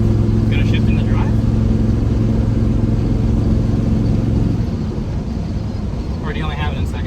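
A square body Chevy truck with a rebuilt Turbo 350 transmission drives with a close, droning engine hum. Partway through, the tone drops as the gear changes, and brief voices can be heard over the engine.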